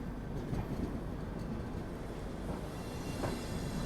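Steady rumble of the Tirupati–Jammu Humsafar Express running along the line past Ludhiana, a continuous low rolling drone heard from inside the train with faint rattles and no voices.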